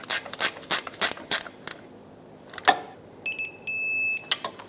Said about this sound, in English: Reinstall the mounting nuts that hold on the bracket, and we'll tighten them up